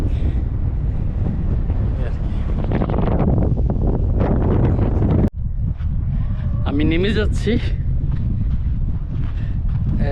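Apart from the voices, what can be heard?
desert wind at the Giza pyramids, Egypt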